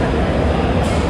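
A loud, steady rumble of a Delhi Metro train running near Kashmere Gate station, with constant rolling noise filling the whole moment.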